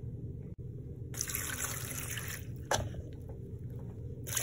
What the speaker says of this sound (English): I'm going to dump it in my blender, and I'm going to fill 2 cups with water